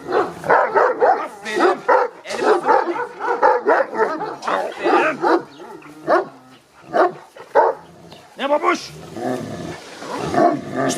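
A dog barks and growls repeatedly up close, with yips and whimpers mixed in as a person speaks Turkish between the barks.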